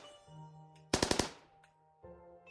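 A quick burst of four or five rapid gunshots in the video game Project Zomboid rings out against a quiet background of low electronic tones, followed by a short fading tail.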